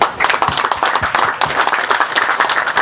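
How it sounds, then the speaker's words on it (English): A dense, close round of clapping rises from a crowd at a dairy association picnic on a farm, steady and lively throughout the short stretch. "Nice round of applause for all of these folks"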